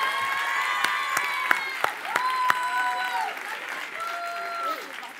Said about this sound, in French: On applaudit Jamila Tou.